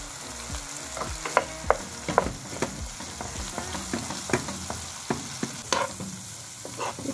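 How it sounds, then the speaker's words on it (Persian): Chicken with spices, garlic and butter sautés in a pan, a steady sizzle broken by repeated sharp scrapes and taps of stirring, close and fairly quiet, no voices. "چند دقیقه تفتش میدیم."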